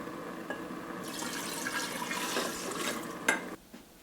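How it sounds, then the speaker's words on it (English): Water pours from a quart mason jar into a container, a steady gurgling splash for a few seconds that ends abruptly with a last trickle and drip, with no talk. "I'm going to use this quart mason jar to pour in my water,"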